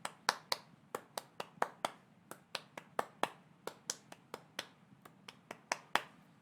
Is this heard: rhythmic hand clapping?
yes